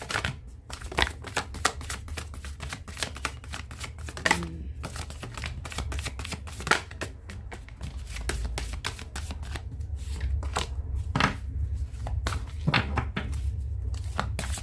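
Tarot cards are shuffled by hand close up, giving rapid crisp riffles and slaps in an uneven rhythm that carries on steadily throughout.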